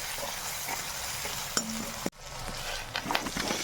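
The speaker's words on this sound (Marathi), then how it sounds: "शेंगा फ्राय करून घ्यायच्या." Flat beans (val pods) fry in a pan with red chili powder, salt, turmeric and masala, a continuous sizzle broken by a few utensil clinks and scrapes, with no talking.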